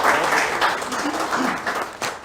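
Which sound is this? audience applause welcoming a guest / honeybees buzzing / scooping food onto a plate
audience applause welcoming a guest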